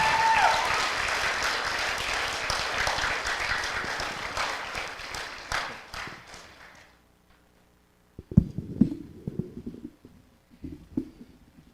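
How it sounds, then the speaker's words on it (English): Applause from a concert audience at a school spring concert swells loudly and then fades out over several seconds, followed by near silence and then some faint shuffling and handling noises nearby. "We got to give these helpers a big round of applause for helping out tonight."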